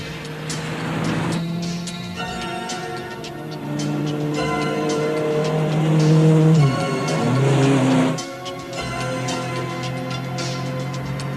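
A car driven hard in a film chase, its engine revving and climbing while the tires squeal and skid in long whining sweeps. The sound is loud and close and runs continuously, falling away slightly near the end.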